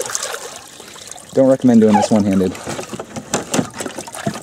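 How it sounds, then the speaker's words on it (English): Fresh water pours and trickles into a dog's bowl during snowy November weather in Pennsylvania, a short liquid splash mixed under close, steady talking. "Let's get you some good water here, Chop."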